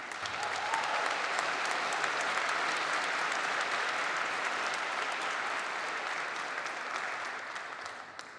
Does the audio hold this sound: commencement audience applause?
yes